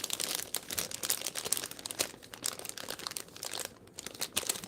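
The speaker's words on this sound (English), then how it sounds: "I bet you this crinkling is really annoying near the microphone" Plastic packaging crinkles and crunches right up against the microphone while a Blokees Evangelion Unit-02 model kit is being unpacked, with dense, irregular crackling bursts running continuously.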